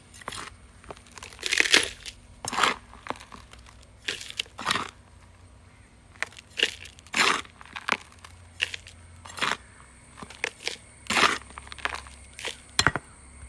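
Loose potting soil mix tipped into a plant pot for planting a hybrid bougainvillea cutting, heard as a series of short dry crunching, rustling pours in separate bursts, fairly close, with no talk.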